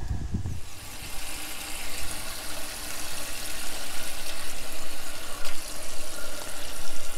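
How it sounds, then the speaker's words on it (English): Tap water running steadily into a sink while fresh garden lettuce is washed, a loud continuous rushing stream with slight swells, no talking. "I'm going to take you inside and show you how I wash up and store my lettuces"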